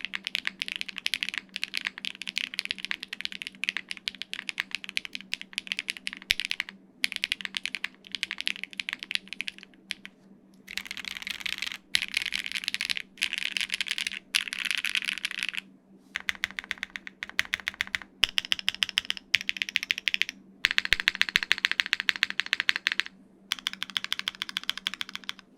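Rapid typing on a Haven65 mechanical keyboard fitted with plate foam, bursts of close, crisp clacking keystrokes separated by brief pauses, with no talking.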